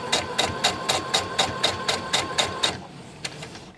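A domestic sewing machine back stitching a seam on a fabric project bag, giving a quick, even run of about ten mechanical clacks, a short pause, then a single further stitch, close and clear with no talk.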